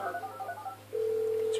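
Phone dialing in Grand Theft Auto V: a few short electronic dial beeps, then a steady, continuous tone rising in level and holding to the end, faint game background underneath.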